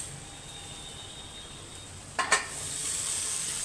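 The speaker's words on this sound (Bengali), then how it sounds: "এখন কুকারের মধ্যে সমস্ত সবজিটা ঢেলে দেবো।" Sautéed vegetables for pav bhaji are tipped into a pressure cooker, giving a short double clatter of metal and a rush of sizzling over a quiet kitchen background.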